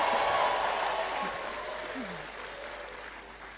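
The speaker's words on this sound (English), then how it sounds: "All the queens clap for the big kings around them." Audience of women applauding at a leadership sermon, a dense wash of clapping that starts loud and slowly tapers off, with a few faint voices calling out underneath.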